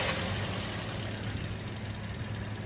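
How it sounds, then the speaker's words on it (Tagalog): A Toyota Vios engine idles roughly after a restart, giving off a steady low rumble with a slight shake as its idle speed drops too low, and no one speaks. "Pa-start ko ulit itong makina."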